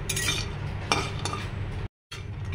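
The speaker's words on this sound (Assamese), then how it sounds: "ইয়াতে কাজু বাদাম আৰু এলমণ্ডছখিনি দি অলপমান গৰম কৰি লৈছোঁ" Cashews and almonds are warmed in a hot pan for baby food, stirred with a utensil that scrapes and clinks against the metal in a steady close rhythm, with a brief gap near the end.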